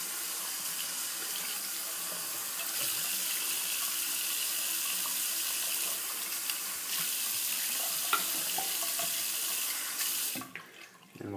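Water runs steadily from a tap as hands are rinsed, a continuous broadband splashing that holds for about ten seconds before cutting off near the end.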